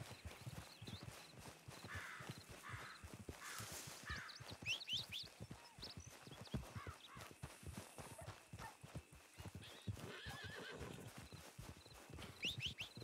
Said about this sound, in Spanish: Creo que es el caballo.